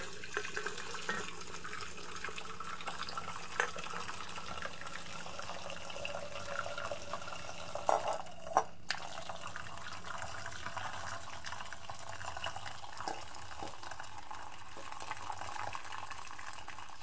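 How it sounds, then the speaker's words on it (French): Steady trickle of liquid preparation running through a strainer and splashing into a saucepan, with a couple of brief metallic clinks midway; no voices. "je verse la préparation dans une autre casserole et je la filtre à l'aide d'une passoire"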